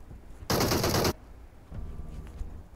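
A burst of rapid automatic gunfire from a battle royale video game, one dense half-second spray, loud against quiet background game ambience, followed by faint scattered distant shots.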